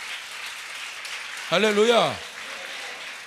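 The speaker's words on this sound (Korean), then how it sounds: "이것이 믿어지시면 우리 주님께 영광의 박수 올려드리겠습니다." A church congregation applauds in a steady, even wash of clapping at moderate volume, while a voice calls out briefly over it.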